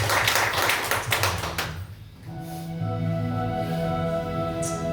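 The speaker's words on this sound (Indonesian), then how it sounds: "Berikan tepuk tangan untuk Tuhan" A church congregation claps during praise worship, a burst of many hands that fades after about two seconds as sustained musical tones from instruments take over and continue steadily.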